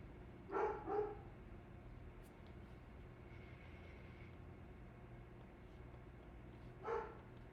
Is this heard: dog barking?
yes